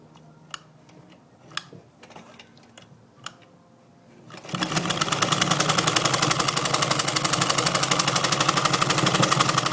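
A Wizard sewing machine with a buttonhole attachment starts up after a few light clicks and then stitches steadily, a loud, fast, even mechanical rattle running continuously for the second half.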